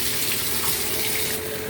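Water runs steadily and loudly from a tap or hose while an American Pitbull Terrier is bathed, a continuous close hiss and splash with no breaks.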